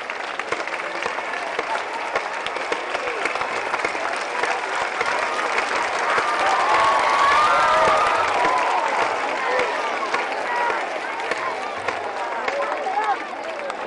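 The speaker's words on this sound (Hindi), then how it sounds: "हम खड़े होकर के ताली बजा करके इस भारत की महान सिद्धि के लिए और हमारे सभी वैज्ञानिकों का अभिनंदन करें।" A large audience at Siddaganga Mutt in Tumkur stands and applauds, a dense, sustained wash of clapping with some cheering that swells toward the middle and holds steady for the full stretch.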